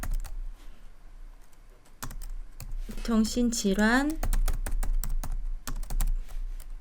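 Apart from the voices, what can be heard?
typing on a computer keyboard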